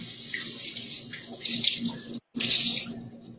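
Steady hiss of running tap water rinsing a cleaned perch, close and loud, briefly cut off for a moment before flowing again, with faint sink clatter.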